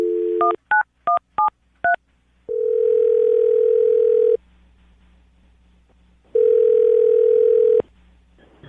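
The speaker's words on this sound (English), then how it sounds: "I'm going to dial the phone number right now." A phone line with a steady dial tone, then a quick run of six touch-tone keypad beeps, then a longer held tone, a gap of quiet, and another sustained tone. Loud and close, with no talking.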